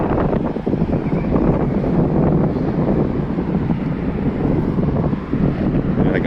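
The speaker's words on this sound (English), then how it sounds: "Very windy up here" Strong wind buffets the microphone continuously, a loud roaring rumble with no pauses.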